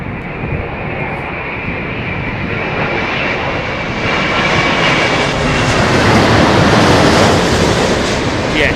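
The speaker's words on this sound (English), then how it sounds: "Raptor X, that was SAS 320 Neo from Stockholm" An SAS Airbus A320neo airliner arriving from Stockholm passes at London Heathrow Airport. Its loud, continuous jet roar swells steadily over several seconds, with some wind buffeting on the microphone.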